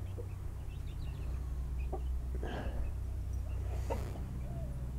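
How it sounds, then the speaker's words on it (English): Chickens with young chicks in a backyard dust bath, soft scattered clucks and peeps over a steady low hum, quiet and fairly close. "Little sweet chicks in the dust bath for the first time."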